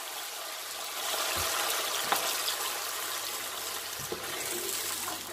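Salted pasta water poured from a cup into a pan, a steady close splashing gush with a couple of small knocks and clinks as it goes in.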